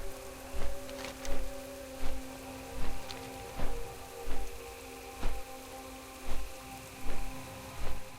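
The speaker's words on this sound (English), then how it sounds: "because now it's raining again" Rain falls in World of Warcraft at Theramore, a steady hiss of drops on surfaces with soft, regular thumps recurring about every second, moderately quiet and with no voices.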